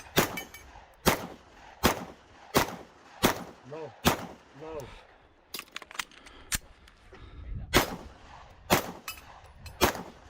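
Gunshots at a multigun competition stage ring out as a series of about a dozen sharp, loud cracks at uneven intervals, with metallic ringing on a steel spinner target and brief voices in between.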